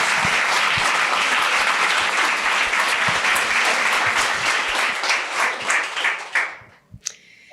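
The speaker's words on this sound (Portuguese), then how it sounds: "Palmas para o Christian" Audience applause at a literary festival in a Jewish museum, a dense sustained clapping from a full room that thins and fades out near the end.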